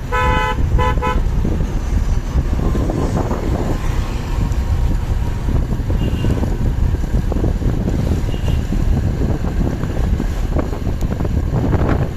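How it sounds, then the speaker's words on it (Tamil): Two quick car horn honks sound at the start, followed by loud rushing wind and road noise. "ஹாரன் அடிச்சு"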